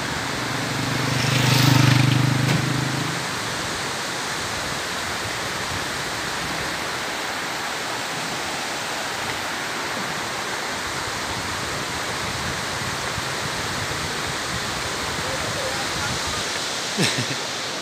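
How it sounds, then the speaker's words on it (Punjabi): A river rushes steadily below a new bridge among the hills of Kotli, Azad Kashmir, a constant broad roar of flowing water with a brief low rumble at the start. "ਨੀਚੇ ਦਰਿਆ ਜਾ ਰਹੀ"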